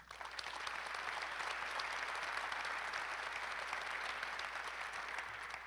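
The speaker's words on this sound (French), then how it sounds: "Merci de les applaudir" An audience at an association's annual general meeting applauds steadily in a hall, a dense, sustained wash of clapping heard from a moderate distance over a low hum.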